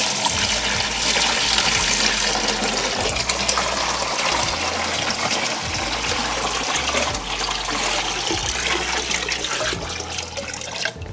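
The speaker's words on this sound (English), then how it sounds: "I'm gonna fill my bucket up with 4 gallons of water." A bucket filling with 4 gallons of room-temperature water: a loud, steady rushing gush of running water, continuous and close, with no talking.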